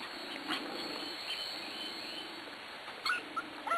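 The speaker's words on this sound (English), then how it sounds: "Who's in there growling?" A Corgi puppy growls low and rumbly from close by, with a few sharp whimpers and yips near the end.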